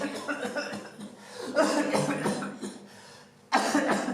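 A person coughs in several rough, raspy bursts separated by short pauses, close by.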